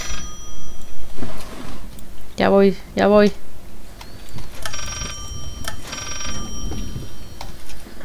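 In the Layers of Fear horror video game, a hidden mobile phone rings in two short bursts of trilling chimes. A voice speaks over the game's ambience before and after the rings.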